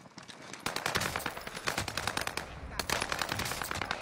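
Automatic gunfire in a shooter video game crackles in fast, loud bursts close by, with a brief gap partway through before firing resumes.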